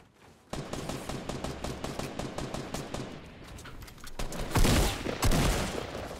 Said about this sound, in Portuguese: E trocentos tiros, mas de boas.